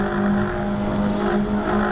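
Toyota MR2 race cars running three abreast into Redgate Corner at Donington Park, a loud sustained engine drone with steady harmonic tones and a brief sharp high burst midway.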